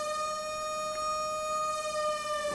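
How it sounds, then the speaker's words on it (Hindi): An air raid warning siren in Panchkula, Haryana, holds a steady, sustained wail throughout, sounding moderately distant with no voices over it. "हरियाणा के पंचकुला में भी सायरन बज रहा है।"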